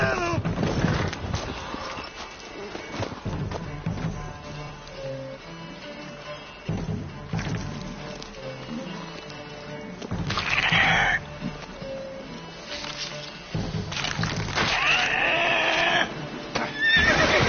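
A horse in a PS4 video game clip-clops along and whinnies, the hoofbeats and neighs coming through a thick layer of game noise with occasional louder bursts.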